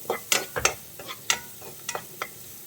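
Onion and garlic sautéing in a pan for tomato rice: a handful of sharp spatula scrapes and taps against the pan over a faint, light sizzle, close by and irregular.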